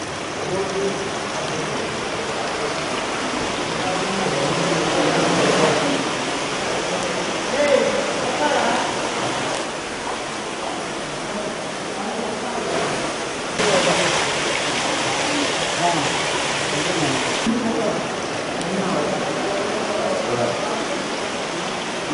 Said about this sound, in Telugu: ఎడతెరిపి లేకుండా కురుస్తున్న వర్షంతో అటువంటి పరిస్థితి ఇంకా కొనసాగుతోంది